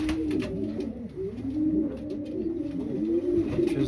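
A racing pigeon coos close by, a low soft rolling call that repeats continuously, with no voices heard.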